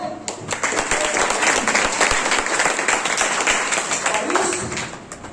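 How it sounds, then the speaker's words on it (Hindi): An audience at a stage program applauds in a continuous wash of clapping, with voices mixed in and a moderately loud, even level throughout. "तालियां हो जाए।"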